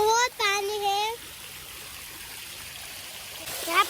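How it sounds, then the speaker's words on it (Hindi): A water fountain splashes with a soft, continuous rush, and a voice talks over it at the start and again at the end. "देखो यहाँ पे तो फवाड़ा है"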